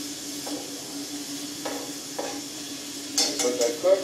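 Onions and garlic sautéing around steaks in a hot pan, a steady sizzle with a few utensil scrapes and stirs breaking through, louder stirring toward the end.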